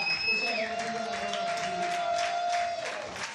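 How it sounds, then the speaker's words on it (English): Spectators at a junior women's pentathlon world championship final applaud as the last athletes cross the finish line, a steady soft wash of clapping and crowd noise under tonal background sounds. "the crowd standing in respectful applause"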